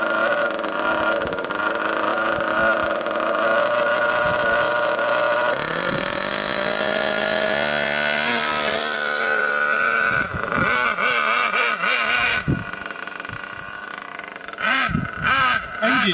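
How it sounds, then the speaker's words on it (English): Nitro RC car engine making its first proper run on a road, with a high, buzzing whine that rises and falls as it revs. It is loud and steady, with sharper bursts near the end. "Engine sounds really nice, a lot of compression"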